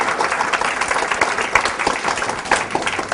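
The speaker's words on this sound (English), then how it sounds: "they are paid money to clap" Dense audience applause at a motivational talk, many hands clapping continuously and fairly loud for a few seconds, with no speech over it.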